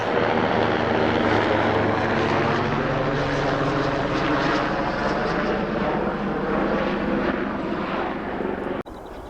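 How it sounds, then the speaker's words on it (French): A loud mountain rescue helicopter drones steadily overhead in an alpine valley, its rotor thumping continuously for several seconds before the sound cuts off abruptly. "Un hélicoptère du PGHM."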